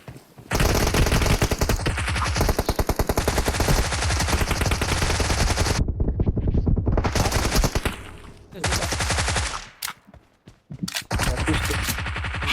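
Automatic gunfire in the mobile game BGMI: long dense bursts of rapid shots, loud and close, broken by brief pauses and a few shorter volleys near the end.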